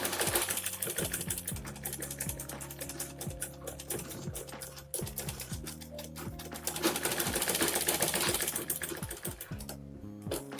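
A sewing machine stitches fabric for a box pouch in a fast, continuous mechanical whir with rapid needle ticking, loud and close, briefly pausing before running on again.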